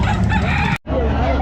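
Young gamecock, a Kelso stag, crowing at a rural pet market in Calumpit. Two loud, close crows are broken by a brief gap, with market chatter underneath.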